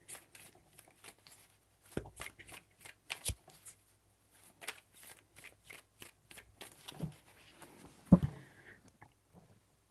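Tarot cards shuffled close up in quick crisp riffling bursts, soft and separated by short pauses, with a sharper knock near the end and little talk.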